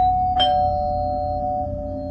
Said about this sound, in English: I was about to crawl into bed when my doorbell rang.